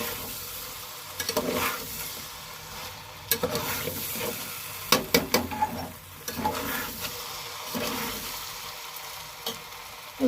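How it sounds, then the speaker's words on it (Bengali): Chicken frying in a pan is stirred with repeated scraping strokes and clicks over a steady sizzle, close and moderately loud, with no one talking. "আর একটু নাড়িয়ে নেব"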